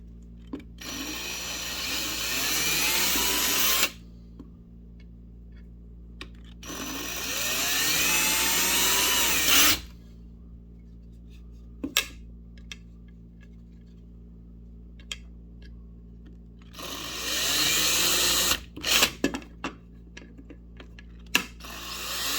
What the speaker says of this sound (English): so I'm going to use a drill